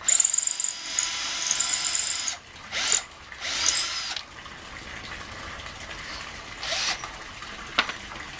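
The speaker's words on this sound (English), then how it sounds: "I'm going to pre-drill." A power drill pre-drills holes in wood while an indoor bog filter for a pond is being built. It whirs in several short, loud bursts separated by brief pauses, with no talking.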